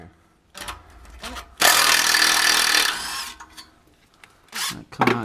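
Tools working on exhaust muffler bolts under a Lexus with a 1UZ engine, a loud grinding power-tool burst of about a second and a half amid shorter buzzing bursts and clanks, close by.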